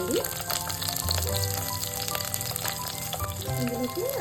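Green chillies, garlic and cumin fry in hot oil for a cucumber yogurt pachadi, giving a steady moderate sizzle throughout, with faint tonal background noise and a few light clatters.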